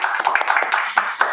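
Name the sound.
audience applause for the seminar speakers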